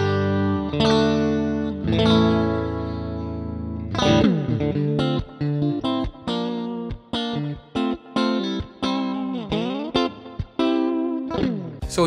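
Electric guitar notes and chords from a Stratocaster with heavy effects, neck-plus-middle single-coil pickup position, swelling sustained tones then choppy bursts of plucked notes, up close and with no talking.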